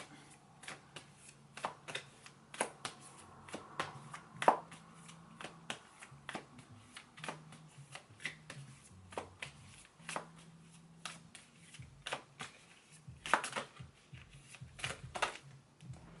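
Tarot cards shuffled by hand during a psychic reading, giving a long run of quick, crisp card snaps and riffles at close range with no talk over them.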